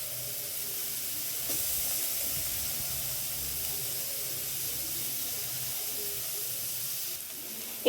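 Sliced onion sizzles in hot oil in a pan for fried cabbage pancake filling, giving a steady, fairly soft hiss that continues evenly throughout, with no talk.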